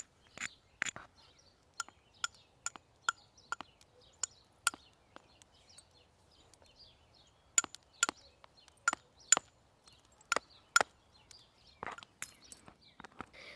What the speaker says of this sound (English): ready for sharpening with the antler soft hammer